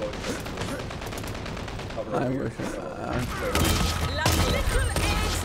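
Gunfire in the online shooter Dirty Bomb: bursts of automatic fire and thumping impacts, loud and overlapping, with players talking over the action.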